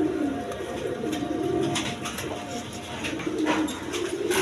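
Lotan pigeons coo in soft, repeated throaty bursts at close range, a female among them, over steady low background noise with no talk.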